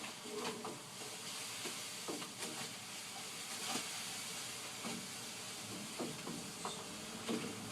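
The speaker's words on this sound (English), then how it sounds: "Stirring it up, avoiding dough balls." A paddle swishes and scrapes through a mash of grain and hot water in a home brewing pot for an IPA, with a steady hiss beneath repeated soft stirring strokes and faint clinks.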